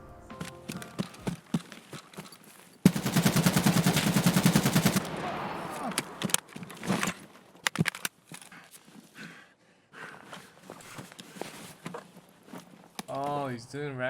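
RD rifle firing 7.62x39 PS ammunition in Escape from Tarkov, a dense roughly three-second burst of rapid automatic fire, followed by scattered shots, footsteps and movement noise, with a bit of game voice near the end.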